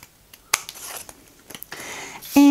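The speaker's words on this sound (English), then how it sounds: "now what we're gonna do is we're just going to cut out the triangle just like before" Scissors snipping through paper to cut out a triangle shape for a paper tulip, a few faint, quiet snips spaced apart with a sharper cut near the start and a louder rustle at the end.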